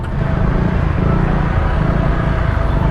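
Honda Click scooter exhaust droning steadily and loudly up close in traffic, a continuous low rumble with no clear talk over it.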